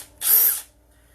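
A power drill whirs through a hole for a speaker on a kitchen step workbench during an arcade control board build, one short close burst of about half a second, with no talking.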